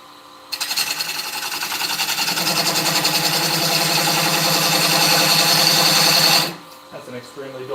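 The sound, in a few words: wood lathe turning an eccentric bowl with a dull gouge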